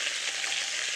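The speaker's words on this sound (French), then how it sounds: "il fallait bien attendre que ma casserole soit bien chaude et l'huile bien bouillante, de façon à ce que le lapin caramélise bien comme ça" Rabbit pieces frying in very hot oil in a pan give a steady, soft hissing sizzle, faint and even over a brief moment with no voices.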